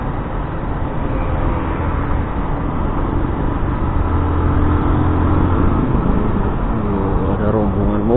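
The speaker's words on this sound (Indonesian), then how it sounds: "mobil, ini rombongan mobil." A line of cars rolls past on a busy morning Jakarta road under construction, a continuous loud traffic rumble with engines droning and shifting close by, heard alone without speech.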